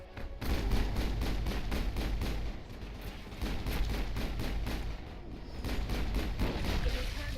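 Continuous rapid weapon fire in Mass Effect: a steady stream of evenly spaced shots that runs almost without pause, briefly dipping before resuming, with a low rumbling bed beneath.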